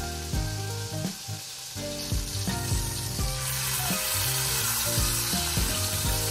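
Meat for a burrito frying in a pan, with a steady close sizzle and repeated bursts of stirring or shifting pieces, alone without talk.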